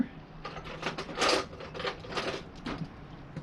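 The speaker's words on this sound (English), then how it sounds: "And get my 1/4 inch ratchet here." A 1/4 inch ratchet turns a 10 mm bolt while a fairing is fitted to a 2008 Harley-Davidson Sportster 883C, giving quick bursts of close, light clicking with short pauses.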